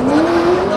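Racing trucks at a track night, engines droning with a steady rising whine and faint tire noise, loud and close throughout the short burst.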